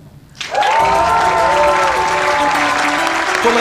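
Audience applause at the Castricum's Got Talent talent show prize ceremony: a loud, dense wash of clapping bursts in after a quiet moment and holds steady, with faint tonal sounds mixed in.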